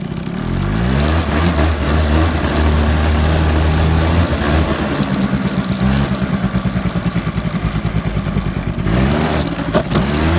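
A four-wheeler ATV engine runs close by, a loud, continuous low rumble with a pulsing, throbbing rhythm that shifts slightly in pitch as it idles and revs.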